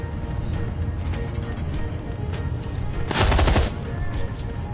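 Full-auto gunfire in the video game Shadowrun: Hong Kong: a short, loud burst of rapid shots rises over a constant game soundtrack and then cuts off, with no voices.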